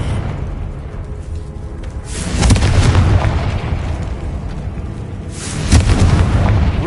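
Two booming Confringo spell explosions in the video game Hogwarts Legacy, loud deep blasts a few seconds apart over a rumbling background, with no speech.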